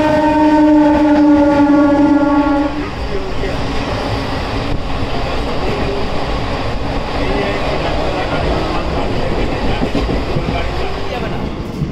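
At Barasat railway station, a loud train horn blares for a couple of seconds, then a steady rumbling roll of carriages with rhythmic clickety-clack carries on close by.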